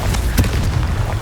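Confringo blasting spell explosion in the Hogwarts Legacy video game: a deep, rumbling boom with a sharper burst near the start, over a continuous low roar that fills the short stretch.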